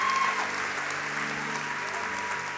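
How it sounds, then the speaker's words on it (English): Church congregation clapping for the Lord after a prayer, a full, steady round of applause with a sustained musical tone beneath it. "give the Lord a great hand clap today."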